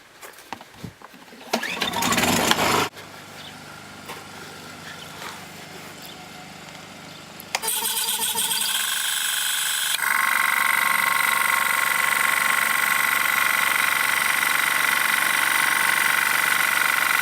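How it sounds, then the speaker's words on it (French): A Nardi hookah diving compressor powered by a Honda EU20i generator: after a few knocks and a brief burst, the generator hums steadily, then the compressor kicks in with a louder continuous mechanical drone that rises again and holds. "Bon démarrage du narguilé, arrêt par pression haute."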